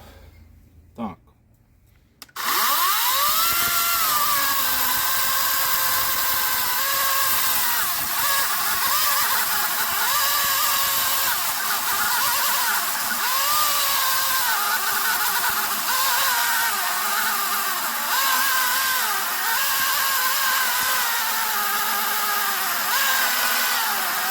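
A battery-powered electric chainsaw, an Einhell GE-LC 36/35 Li or a Dnipro-M DCS-200BC Dual, starts after a couple of seconds of quiet and runs loud and steady, its high motor whine holding with slight wavering throughout.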